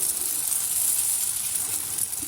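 Breakfast food frying in a small, lidded pan, giving a soft, continuous hiss of sizzle and steam at close range with no talking.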